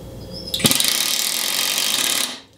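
KIMO 20V cordless brushless impact driver starts up loud and close, whirring steadily with a few rapid hammering impacts early on before winding down and stopping near the end.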